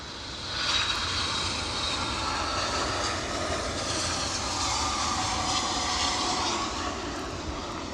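Airplane engine roaring steadily at Edinburgh airport, a loud continuous jet rumble with broad whine that rises in the first second and holds near and strong throughout, no talk.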